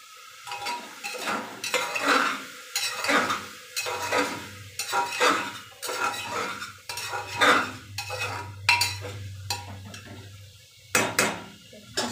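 A spoon scrapes and clinks rhythmically in a pan as turmeric and cumin powder cook with dalia for a khichuri, repeated stirring strokes close by with a low steady sizzle underneath and no talking.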